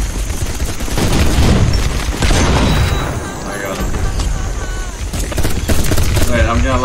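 Gunfire in the video game Soldat 2 is heard as dense bursts of rapid shots and booms, loud throughout, with a player's voice talking over the shooting.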